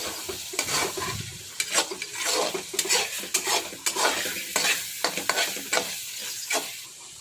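Repeated scraping and stirring of tomato paste in a hot pan, with irregular clinks of a utensil against metal over a soft sizzle; close by, no voices.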